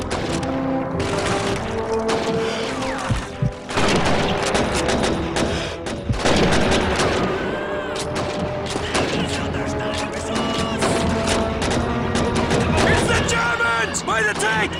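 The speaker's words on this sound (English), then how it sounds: "Keep firing! It's an MG42!" An MG42 machine gun fires in rapid sustained bursts in the Call of Duty 2 Soviet campaign, dense loud gunfire with booms and clatter over shouting voices throughout.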